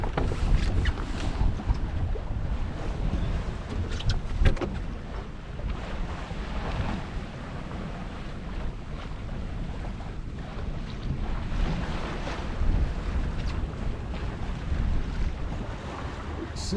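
A small 20-foot Norfolk Gypsy sailboat under sail at sea, with steady wash of water along the hull and constant wind buffeting the microphone, a continuous broadband rush with no talk.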